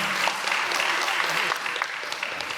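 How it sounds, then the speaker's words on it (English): An audience at a spring startup showcase gives sustained, even applause after a presenter finishes, a dense wash of clapping from a mid-sized crowd, with some faint voices beneath. "Another round of applause."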